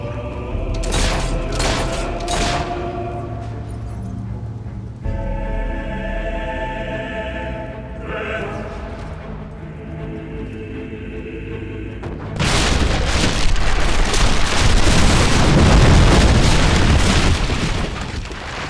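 Mortar shells in Fable III blast repeatedly, heavy booms and crackling bursts thundering through the battle, with a dense, loud barrage in the final seconds.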